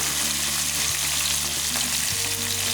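Small onions fry in a pan for a dry fish curry, giving off a dense, steady close-up sizzle with faint stirring and no talk.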